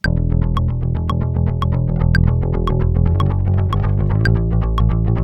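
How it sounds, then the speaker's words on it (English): Electric bass plays a steady, repeating pattern with a shimmering, chorus-like doubled tone, sustained and fairly loud, with no voices. "It sounds chorusy."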